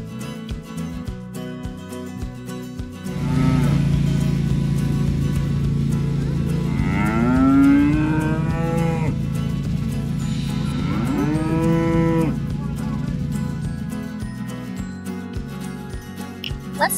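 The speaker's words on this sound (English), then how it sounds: "Oh no, the cow wants to eat our apples." A cow on an apple orchard farm lets out two long, loud, drawn-out moos in succession, rising and falling in pitch, with only quiet ambience before and after.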